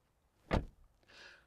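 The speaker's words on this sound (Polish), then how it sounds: "I na tle konkurencji wyróżnia się bardzo przyjemnym dźwiękiem zamykania drzwi." A SsangYong Torres door shuts with a single solid, muffled thud, followed by a faint rustle, heard close up in a quiet setting.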